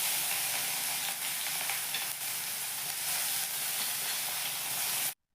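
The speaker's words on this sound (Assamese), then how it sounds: "প্ৰথমতে আমি পিঁয়াজখিনি ফ্ৰাই কৰিম" Sliced onions fry in a hot pan for a radish and fish curry, giving a loud, steady, even sizzle with stirring scrapes that cuts off abruptly near the end.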